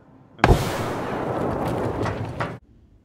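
A grenade blast in a tactical shooter video game, a sharp loud bang followed by a roaring two-second rumble with crackling debris bursts before it stops abruptly.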